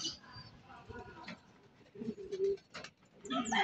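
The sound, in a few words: racing pigeons cooing at the loft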